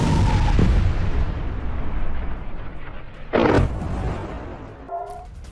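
A deep, rumbling explosion near the Strait of Hormuz, by Qeshm Island, booms and fades, followed by a second sharp blast midway, then a lingering low roar.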